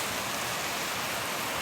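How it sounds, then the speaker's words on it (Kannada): Heavy rain pours down outdoors as a dense, even roar of falling water. It is constant and unbroken, with no voices over it. "ಅಲ್ಲಿ ಕಾಣ್ತಾ ಇದೆಯಾ ಮಳೆ ಎಷ್ಟು ಜೋರಾಗಿ ಬರ್ತೈತೆ ಅಂತ"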